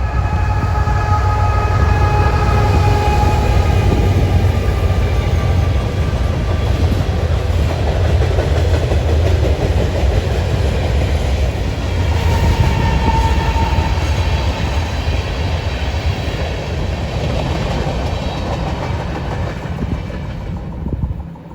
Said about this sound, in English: we catch an unknown northbound CN mixed freight train